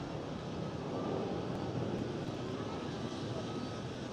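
A jet airliner rolls for takeoff on runway 24 at Amsterdam Schiphol, heard from a public panoramic terrace as a broad, steady engine roar at moderate distance, constant in level and with no voices.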